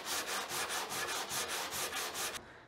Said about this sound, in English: So that's what we're sanding off here, is just the Bondo.